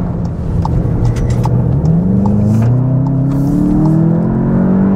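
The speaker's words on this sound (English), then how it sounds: "Traction control kicked in there, a little bit of wheel scrabble on a tight right-hander as I turned there" A 2022 Volkswagen Jetta GLI accelerates hard out of a tight right-hand turn, its engine note climbing steadily and loudly with road and tyre noise as the front wheels scrabble for grip; heard from inside, with no talking.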